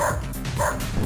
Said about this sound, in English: all I can do is bark